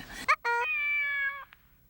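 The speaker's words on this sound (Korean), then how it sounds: "저 아내가 처녀적부터 키우던 고양이죠" A pet cat gives a short chirp and then one long, clear meow lasting about a second, close and distinct against a quiet indoor background.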